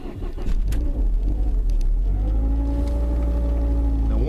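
Driving a 2000 Ford Focus wagon with an automatic transmission: a steady engine and road rumble from inside the car, with a thin tonal whine rising above it as the car gets under way.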